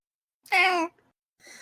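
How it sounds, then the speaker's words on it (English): A kitten gives one clear, close meow lasting under half a second, followed by a brief fainter cry. "I have a kitten sitting next to me right now."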